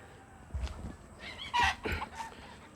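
Hens clucking on a poultry farm, several short bursts of bird calls at moderate distance over a low, steady background.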